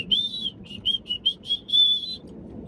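A person whistles a short, bright tune of sustained and clipped notes in an irregular phrase, close and clear over a faint low background hum, with no talk.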